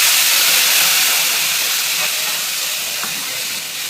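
Tamarind, onion and tomato paste hits hot oil, giving a loud, continuous, close sizzle with no voices that eases slightly over a few seconds.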